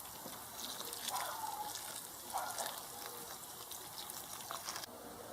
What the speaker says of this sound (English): And I'll just give it a little water